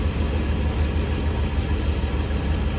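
A car engine idles steadily just after a cold start, settled into closed loop, with a constant low rumble and broadband hum and no voices.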